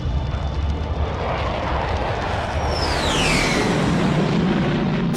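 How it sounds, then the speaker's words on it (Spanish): NATO military jets roar low over London in a loud, continuous rush of engine noise with a high whine that sweeps downward partway through. "Solo hasta que vio a los aviones de la OTAN surcar los cielos de la ciudad."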